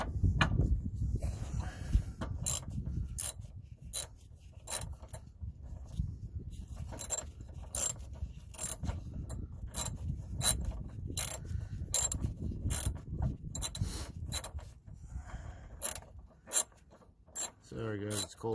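Bolts on N-Fab side steps being snugged down on a 2022 Jeep Gladiator with a ratchet, a steady run of close, sharp metallic clicks and ratcheting over outdoor low rumble, with no talking.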